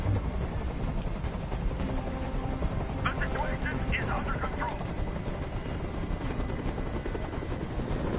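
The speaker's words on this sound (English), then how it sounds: "Tell that helicopter to get out of here." Helicopter hovering in Detroit: Become Human, a constant loud rotor drone filling the whole stretch while someone speaks over it.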